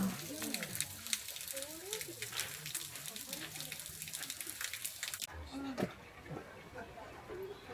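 Small waterfall spilling among green moss in a Kyoto temple garden, a steady close rush of falling water with voices talking over it for most of the stretch.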